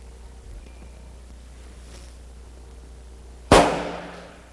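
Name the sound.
1800s Napoleon field gun cannon firing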